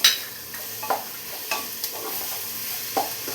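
A paste of ground ginger, garlic, green chilli and cumin sautés in hot oil in a pan, a soft steady sizzle broken by several sharp scraping clicks of a spoon stirring, close and fairly quiet.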